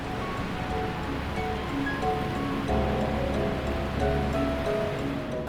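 Rushing, churning water and spray beneath Niagara Falls heard from aboard the Maid of the Mist boat, a constant dense roar without pause, close and enveloping.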